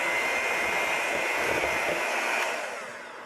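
Banana bread batter with salt is mixed with a steady, whirring drone that holds evenly close by, then fades slightly at the end, with no talking.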